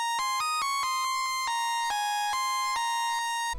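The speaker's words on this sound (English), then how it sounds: "This lead is from Purity, and it's called the Desolate Solo." A Desolate Solo synth lead preset from Purity plays a bright, ringtone-like melody of short repeated notes in a steady rhythm, loud and alone with no voices.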